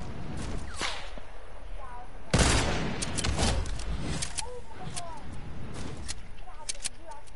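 Sniper rifle quickscope shots ring out in a shooter video game, one loud, sharp blast standing out amid scattered softer game sounds while voices talk.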